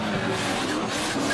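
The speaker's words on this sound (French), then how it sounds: "Rhino drifting en feu sur la piste de croix en ternois" A drift car slides on the Croix-en-Ternois race track during a Pure Drift event, a brief burst of roaring engine and rasping tyre skid that stays loud throughout.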